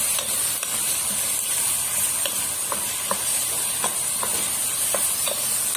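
Meat sautés with onions in a pan for a pea and meat tagine, a continuous bright sizzling hiss with small pops and spits scattered throughout.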